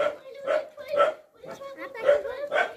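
Small dog yips and barks in short bursts at a home in Nepal, several near, high-pitched calls with brief pauses between them.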